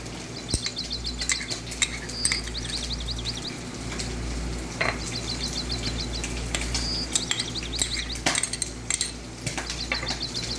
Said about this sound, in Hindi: अब इसको हम अच्छे से फेंट लेंगे